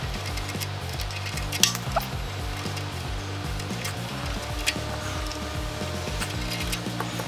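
Bolts on a Simpson pump being broken free from old Loctite and unscrewed, giving metallic clinks and a creak over a steady rhythmic workshop machine hum, no talk.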